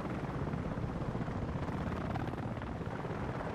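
Helicopter in the video game Battlefield Play4Free, a steady broadband rotor and engine roar holding at an even level throughout with no voices.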